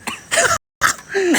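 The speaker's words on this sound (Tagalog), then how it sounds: "Umubo pa." Someone clears their throat or gives a short cough in two quick bursts separated by a brief silence, close to the microphone, during a casual live stream.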